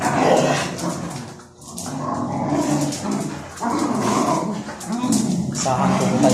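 Several dogs scuffle in play-fighting, a busy tangle of growls, yips, whimpers and barks close by, continuous and noisy throughout.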